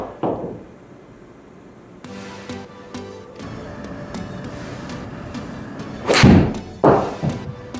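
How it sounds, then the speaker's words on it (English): A golf club strikes a ball in a full swing, giving a sharp thud followed by a second impact, close to the microphone outdoors against a low background rumble. "That's the golf swing."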